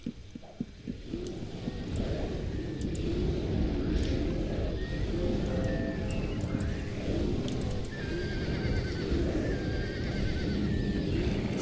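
A horse in Ultima Online neighs and whinnies repeatedly over steady clip-clop hoofbeats and a busy background rumble, with several sharp high calls rising above the mix.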